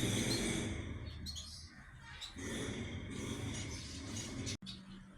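Finch sparrows, including young ones, chirping on a home terrace, with light tweets scattered over a soft background hum and a brief dropout near the end.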